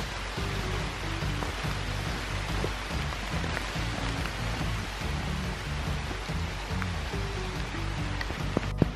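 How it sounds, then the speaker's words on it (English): Rain falls steadily outdoors near a farmyard with chickens, a soft, even wash of patter with a few louder drips close by and no voices over it. "It's raining good."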